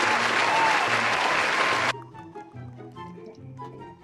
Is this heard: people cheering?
yes